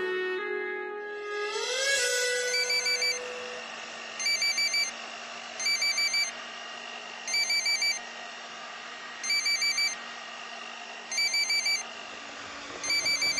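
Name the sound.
phone ringtone ringing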